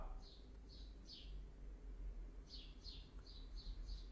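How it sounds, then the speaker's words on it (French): A bird chirps outdoors in a series of short bright calls, a few spaced notes and then a quicker run, over a low steady background rumble. "vous entendez la réalité, vous entendez l'oiseau."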